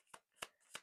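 Tarot cards are shuffled and drawn, with three short, soft riffling bursts evenly spaced and close by in a quiet room, with no voices.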